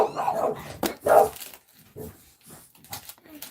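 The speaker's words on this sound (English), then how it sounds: "Oh, and excuse the dogs." Indoor dogs barking and yipping in a few short sharp bursts near the start, then fading to faint whimpers, with a voice talking over them.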